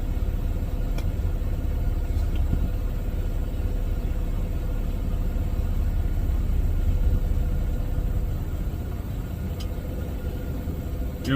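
The engine of an automatic truck runs steadily with a constant low rumble, loud and close for the whole stretch, with no talking.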